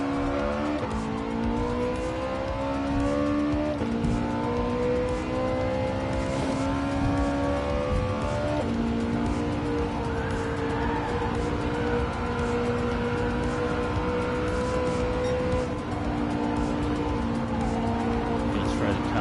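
In a racing video game set on a Tokyo circuit, a race car's engine whines through rising and falling gear changes as tires squeal and skid through corners, continuous and close for nearly twenty seconds.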